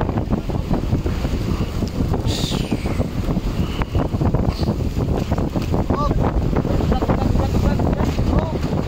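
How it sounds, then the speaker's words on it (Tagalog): Strong wind at sea on a boat in rough water with big waves, roaring steadily and buffeting the microphone, with engine-like rumble and splashing underneath and occasional voices mixed in. "Ala, lakas ng hangin talaga, oh."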